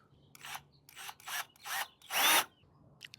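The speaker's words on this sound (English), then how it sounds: "All right, got my holes drilled." Several short bursts of a power drill drilling holes in a steel rack, each lasting about a quarter second, followed by a longer, louder burst, with brief pauses between them.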